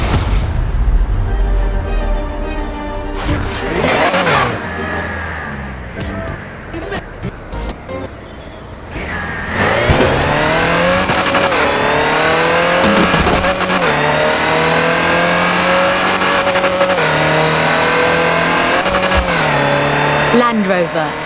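A Land Rover Series III in Forza Horizon 4 drives with a steady, rough engine drone that dips, then rises into a sustained revving climb with shifting pitch, loud and close, while someone talks over it throughout.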